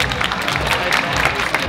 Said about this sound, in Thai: ปรบมือดังให้กับแขกทั้ง3คนด้วยนะฮะ